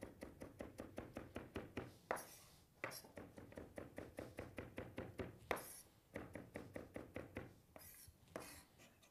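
Cleaver chopping food on a wooden board, steady rapid rhythmic thunks in runs with short pauses between bursts, close and clear with no talk.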